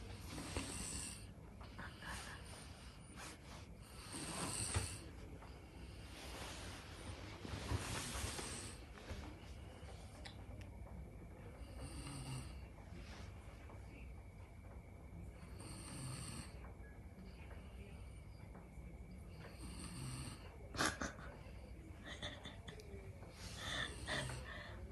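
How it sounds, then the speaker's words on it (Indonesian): A sleeping man snores quietly and close by. Each rasping breath rises and falls in a slow, repeating rhythm across the whole stretch. "Ngorok abang."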